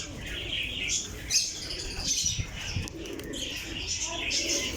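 Rampuri pigeons cooing and chirping in a loft, soft repeated coos with occasional wing flutters, mixed with someone talking nearby.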